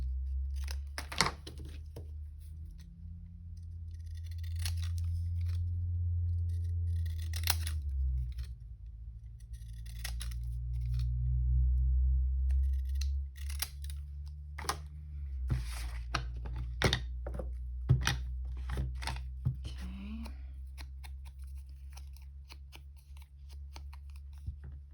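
Scissors snip and cut through paper while crafting a Christmas junk journal at a desk, with sharp repeated clicks and rustles over a steady low hum, close and moderately loud.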